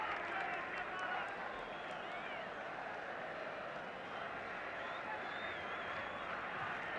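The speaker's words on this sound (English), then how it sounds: "Tremendously noisy crowd." A noisy football stadium crowd roars steadily at a 1977 Home Championship match between Northern Ireland and England, a dense distant wash of cheering under a commentator's voice.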